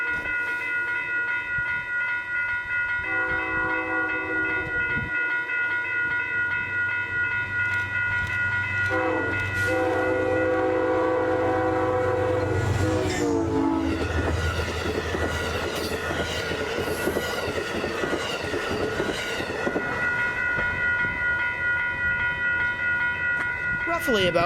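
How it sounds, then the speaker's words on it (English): An Amtrak train led by a P32AC-DM locomotive rolls by near Manitou, New York, with a steady rumble and rail clatter as a loud horn sounds several long, sustained blasts close by. "giving us a few friendly honks."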